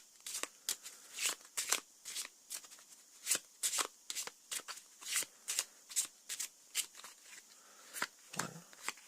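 Playing cards from the Arkham Horror card game are handled close up, a quiet series of crisp slides and snaps in an uneven rhythm, about two dozen distinct flicks with no talk.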